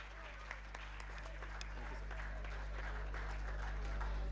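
Graduation ceremony audience at Andhra University gives a round of applause, a broad continuous clapping crowd with low hum beneath, a few sharper claps near the start, swelling slightly toward the end.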